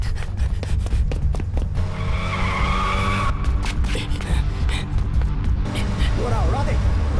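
A car speeds off in an action scene from a Hindi-dubbed film, its tires squealing and skidding under a loud engine roar, while voices shout urgently over it.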